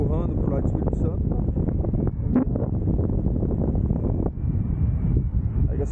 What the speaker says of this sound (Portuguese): O vento gira.